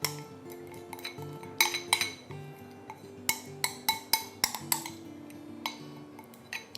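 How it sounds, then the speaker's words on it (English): A metal palette knife spreads melted chocolate thinly over baking parchment, giving repeated light scrapes and sharp metallic taps at an uneven pace with no talking. "spread it out thinly using a palette knife"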